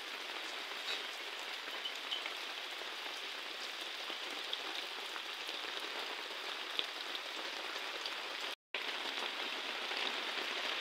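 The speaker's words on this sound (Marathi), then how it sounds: "आणि आळूच्या याच्यावर पाऊस पडतोय मस्त" Steady rain patters onto broad taro leaves outdoors, a dense, even hiss with soft droplet ticks throughout and one brief dropout near the end. No voices are heard.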